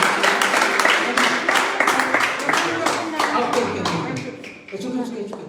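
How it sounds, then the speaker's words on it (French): A congregation claps for a sister during a Sunday church service, the clapping loud and close at first, turning into rhythmic, patterned claps before briefly dipping and resuming. "Give a round of applause to our sister."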